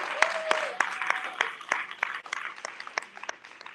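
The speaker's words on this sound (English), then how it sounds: "Give the relaunch of the National Black Child Development Institute a big round of applause, please." An audience at a relaunch event for the National Black Child Development Institute in Los Angeles claps in scattered, fairly light applause, with individual sharp claps standing out and a voice briefly heard near the start.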